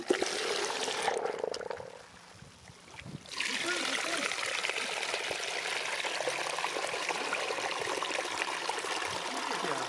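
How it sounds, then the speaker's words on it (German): Water from a pump-fed garden stream trickles and splashes steadily over small weirs, a dense, close rushing that dips briefly near the start before returning at full strength. "Die Staustufen laufen sehr gut."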